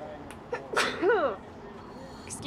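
A person sneezes once, close and sharp, in a quiet room, with a brief exclamation-like voice around it and faint background noise.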